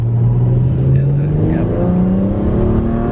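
A car engine revs hard under heavy acceleration, its pitch climbing steadily for a few seconds, loud and close from inside the cabin, in a car with no locking differential.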